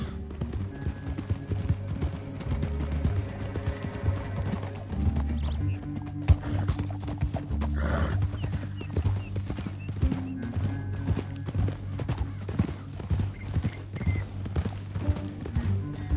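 Horse hooves in the video game Red Dead Redemption 2 clip-clop in a fast, steady galloping rhythm throughout, joined by a whinny and a low musical drone in the background.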